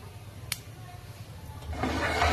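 Mustard seeds and cumin fry in hot oil for a sesame and peanut chutney, a quiet start swelling into a close, steady sizzling hiss.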